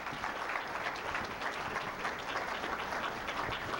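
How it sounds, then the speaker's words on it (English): Warm audience applause greeting a speaker at a lecture event, brisk dense clapping from a crowd, steady and close for a few seconds. "A nice warm round of opening applause for a Mary Hardy."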